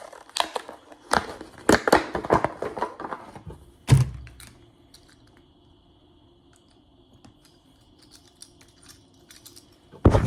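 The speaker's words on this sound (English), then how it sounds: "I'm gonna open up the packaging real quick." Plastic packaging of a motorcycle bar end mirror for a 2013 Suzuki GSX-R 750 being torn and opened close up, with a burst of crinkling and rustling followed by a sharp snap, then near-quiet.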